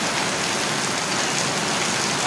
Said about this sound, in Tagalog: sobra talaga po ang lakas ng ulan.